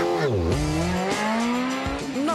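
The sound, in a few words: rally car skidding on gravel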